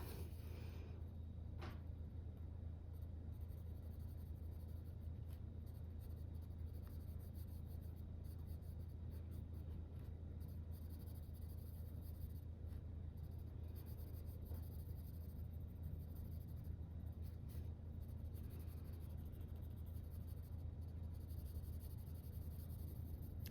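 Prismacolor colored pencils stroke across the paper of an adult colouring book, a steady, soft scratchy rubbing that continues without pause under a constant low hum, with no talking.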